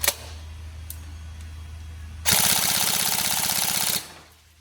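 A Tokyo Marui MK18 NGRS airsoft gun with a rebuilt, upgraded gearbox fires a fast full-auto burst of about two seconds, a dense rapid rattle that follows quieter mechanical handling noise.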